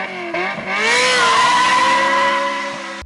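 A Ferrari F355 or 360 engine revs sharply, a brief dip then a high, wailing rise that holds and fades, loud and close.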